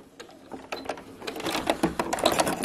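A sewing machine bastes a handle onto a round zip bag at a quarter-inch seam allowance, giving a brief close burst of fast, rattling stitches that grows steadily louder.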